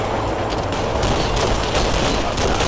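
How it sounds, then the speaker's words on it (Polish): Dense, continuous bursts of gunfire fill the whole stretch, loud and close, sustained rapid shooting in the video game Matrix: Path of Neo with no pauses. "Tu, strzały."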